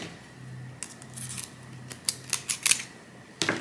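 Scissors make a few quick sharp snips, sliced close by, after a quiet stretch of low hum while a fabric scrunchie bow is glued and trimmed.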